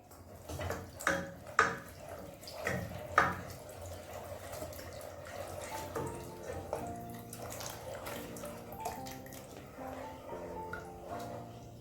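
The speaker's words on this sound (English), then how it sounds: "add your milk." Milk is poured into a baked macaroni and cheese mixture, giving a close liquid splashing and trickling with a few sharp clinks of dishes early on and faint tonal sounds later.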